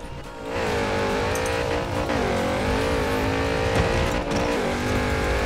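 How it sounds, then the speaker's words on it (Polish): A Chevrolet Camaro drives in Forza Horizon 4, its engine roaring loud and steady with shifting pitch as it accelerates, tires briefly squealing, no voices over it. "No jedzie Camaro, jedzie."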